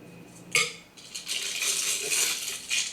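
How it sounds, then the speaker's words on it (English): Thick macaron batter spooned into a plastic piping bag set over a cup, a sharp metal spoon clink followed by soft rustling and scraping of plastic, close and alone without talk. "to make it easier to fill, just place it over a cup and spoon that batter in"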